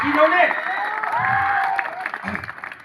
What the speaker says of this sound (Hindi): यदि चाहते हैं तो अपने लिए जोरदार ताली बजा लीजिए